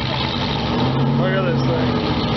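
An 1987 SS car engine idles with a lumpy, uneven rumble at a car cruise, steady and close, while people talk over it.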